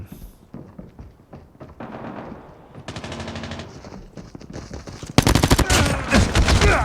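Rapid automatic gunfire in a Call of Duty Mobile Gun Game team fight, loud bursts of shots in quick succession, building to a dense sustained volley near the end with little talk.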